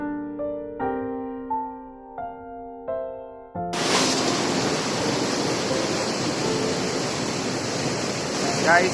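Steady, loud rush of water flowing in a canal over a bridge, suddenly filling the scene after a few seconds of tonal music-like hum, continuing as a constant close roar.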